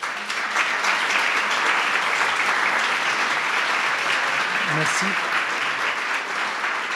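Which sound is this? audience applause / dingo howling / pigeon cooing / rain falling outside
audience applause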